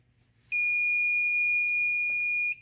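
A Notifier fire alarm panel in a home commercial-style install sounds a loud, steady electronic alarm tone that begins abruptly, holds continuously for about two seconds, then cuts off, with no talking over it.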